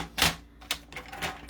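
Patterned paper for a card base being cut with a trimmer, heard as a few crisp, close slicing strokes in quick succession.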